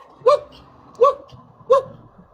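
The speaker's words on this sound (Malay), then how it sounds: "Anjing aku ni." A dog gives three evenly spaced, short barks, close and loud, with quiet background between them.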